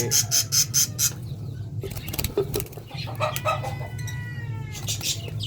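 Several baby parrot chicks in a nest give shrill, harsh calls in short repeated bursts with brief pauses, heard up close over a low steady background hum.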